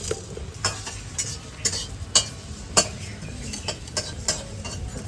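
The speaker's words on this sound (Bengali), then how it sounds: "এগুলো সব একসাথে শুকনো খোলায় একটু ভেজে নেব।" Whole spices (fennel seeds, dried red chillies, black peppercorns and whole garam masala) dry-roasting in a pan, stirred with sharp scraping clinks at an uneven rhythm over a faint low rustle.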